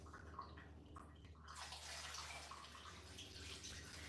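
Water pours steadily into a pan on a stove, a faint continuous splashing rush that swells as the stream begins and then holds at a low, even level.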